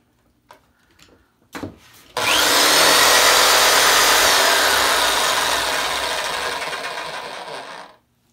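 A paint shaker hack built from a power drill rattles a can of paint, a loud, steady buzzing rattle that runs for about six seconds after a couple of short clicks and starts, then cuts off abruptly.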